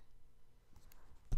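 One sharp computer mouse click sounds close and crisp just before the end of a short, otherwise quiet moment.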